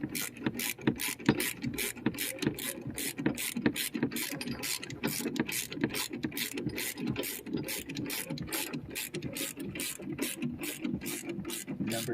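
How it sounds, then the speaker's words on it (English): An 18mm socket on a ratchet tightens a bolt while assembling an under-seat storage box in a 2009-2014 Ford F150 crew cab, giving steady, rapid close-up clicking across the whole stretch with no talk. "Remember, you guys are going to want to tighten it nice and tight."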